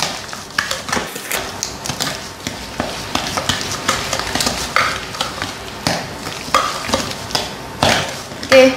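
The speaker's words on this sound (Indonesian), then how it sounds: "Sampai menyatu ya diaduknya." A spoon stirs margarine cookie dough for ginger vanilla cookies in a bowl, giving a steady run of close scraping, slapping strokes that repeat rhythmically without pause.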